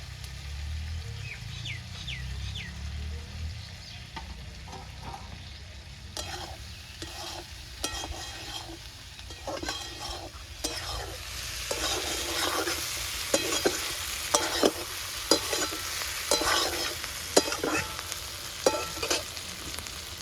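Lentil dal mixture with fish oil being stir-fried in a pan, a soft sizzle broken by repeated scraping strokes of a spatula that grow louder and more frequent, close by with no speech.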